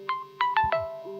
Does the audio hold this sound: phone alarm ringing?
yes